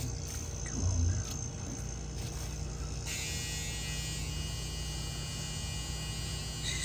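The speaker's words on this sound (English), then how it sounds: "But compressor's on." A GE refrigerator's compressor runs with a steady electrical hum and buzz, close and continuous, with a brief clunk near the start.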